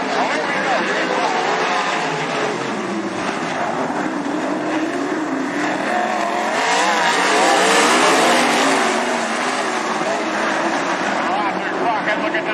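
Sprint race cars on a speedway oval approach corner number 4 with a continuous, loud engine roar that builds slightly midway. An announcer's commentary runs over the noise throughout.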